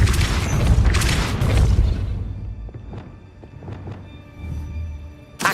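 Depulso spell impact in Hogwarts Legacy video game: a heavy booming crash with rumbling debris for about two seconds, then scattered lighter knocks and thuds as it settles, loud and close.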